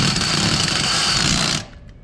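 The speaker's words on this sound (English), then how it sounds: "instead of using the metal bar and winding, we use a drill." A power drill winds down a van's jack, a loud steady whirring motor running close by for over a second before cutting off abruptly.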